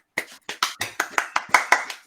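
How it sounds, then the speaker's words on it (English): A few people clapping to welcome a guest onto a sales show, about ten separate sharp claps in a loose, uneven rhythm, close and clear, with no talk. "Thank you for the applause."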